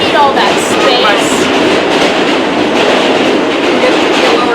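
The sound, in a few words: New York subway train running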